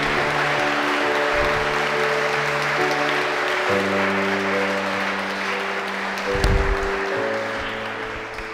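Church congregation clapping during a worship service, a steady wash of applause under sustained organ or keyboard chords, with a brief swell near the end.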